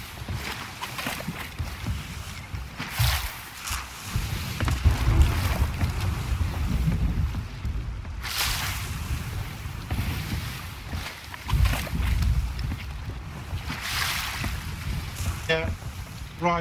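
Sailing ship moving across open sea in Sea of Thieves, with steady wind rush and broad wave wash rolling throughout, swelling in a few louder surges, a faint creaky tonal sound near the end.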